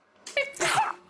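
A single sneeze, close and fairly loud, with a short breathy intake just before the main burst, in a casual podcast setting.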